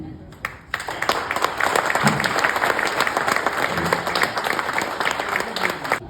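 Audience applause at a Tamil comedy and mimicry show, a dense, sustained clapping from a crowd that swells in after a brief pause and holds steady, fairly close and loud throughout.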